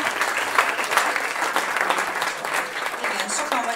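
Audience at a women's folk music evening in Budapest's Fonó hall applauds steadily for about four seconds, a dense, even wash of clapping at moderate level with no gaps.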